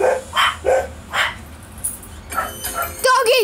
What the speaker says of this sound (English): Doggies!